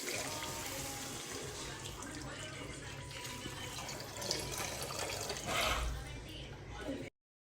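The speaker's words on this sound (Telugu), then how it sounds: "సో ఇప్పుడు వాటర్ పోస్తున్నాం మెల్లగా" Water poured slowly into a cooking pot while instant noodles are made with pink salt and ginger-garlic paste, a soft continuous trickle and splash heard up close under steady background noise, swelling briefly near the end.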